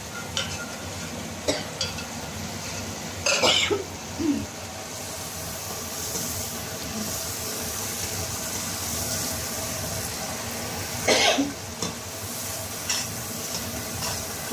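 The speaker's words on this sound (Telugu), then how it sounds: "చూడండి ఫ్రెండ్స్ ఇలా బాగా కలుపుకోవాలి" Mutton for a spicy pickle is stirred and mixed in a pan, giving a soft continuous sizzle with occasional scraping strokes and light metallic clinks, close and without speech.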